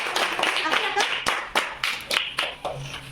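Children in a phonics class clap in a burst of sharp, uneven hand claps that settles into a few separate strong claps, close and bright.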